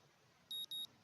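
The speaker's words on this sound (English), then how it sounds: "My morning alarm goes off" Two short electronic alarm-clock beeps in Katawa Shoujo, a clean high tone pulsing twice in quick succession over a faint background hiss.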